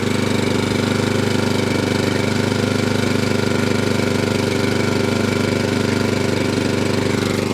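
A small Kawasaki lawn mower engine runs loud and close, a constant rattling, knocking drone that never changes pace.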